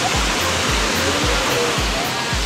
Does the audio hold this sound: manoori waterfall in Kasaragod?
yes